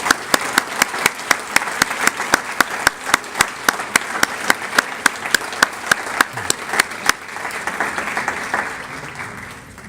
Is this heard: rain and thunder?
no